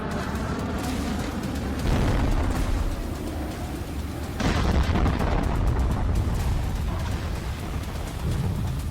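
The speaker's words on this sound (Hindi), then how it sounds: "धमाके हो रहे हैं।" Heavy explosions boom continuously, deep rumbling blasts layered over one another with sharp new impacts every few seconds, loud and close.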